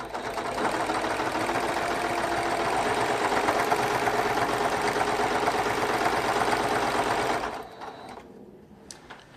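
A sewing machine runs steadily and loudly while stitching around a large quilt-as-you-go quilt border, a dense even whir that stops near the end and leaves a quieter tail.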